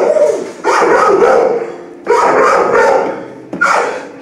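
Three loud, close barks from a puppy, each drawn out and slightly hoarse, as if from a cold, separated by short pauses.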